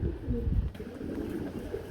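Fancy pigeons coo softly nearby at a pigeon sale, a few low throaty warbles in quick succession over a quiet background.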